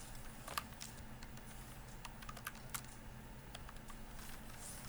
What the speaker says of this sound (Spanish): tengo las teclas borradas de este teclado, entonces estoy adivinando cuáles son las que voy a apretar